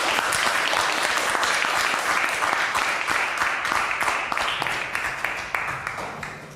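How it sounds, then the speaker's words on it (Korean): An audience at a lecture applauds, dense clapping sustained throughout, loud and close at first and tapering slightly toward the end. "지금까지 주셨던 박수보다 더 힘찬 박수 부탁드립니다."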